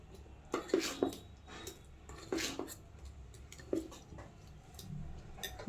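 Rice flour batter is whisked in a bowl, producing irregular clinks and taps of the utensil against the bowl at close range, with quiet pauses in between.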